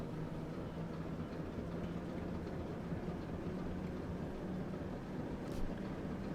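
A train in the Train Sim World 3 game on the Great Western Express route, a steady low rumble with a faint hum that holds level throughout, with no talk over it.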